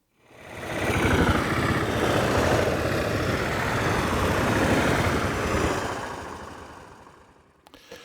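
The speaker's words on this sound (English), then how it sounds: "this is the original sound they put with the template. So some sort of static engine." A static engine sound from a Sound Particles template demo: a dense, continuous mechanical rumble and roar that swells in, holds steady, then fades out toward the end, heard alone with no voices.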